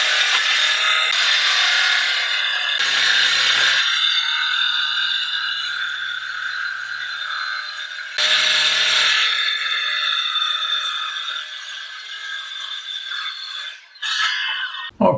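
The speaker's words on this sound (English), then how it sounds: "I want to chip off the board when I cut it with the saw." A hand saw rasps through a taped IKEA SKYTTA wardrobe board in steady, close strokes, with a few louder bursts and no talking.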